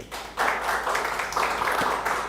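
A church congregation at a Wednesday worship service bursts into applause after a brief quiet moment, then keeps up a full, even wash of clapping to the end.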